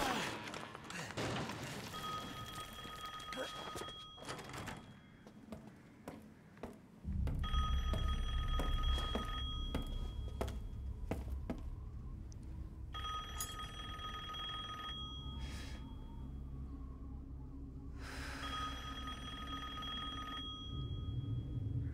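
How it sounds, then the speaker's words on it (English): A telephone rings in Resident Evil Village, an old-style bell repeating in long bursts with short pauses, set against low rumbling ambience and scattered thumps. "The phone is ringing."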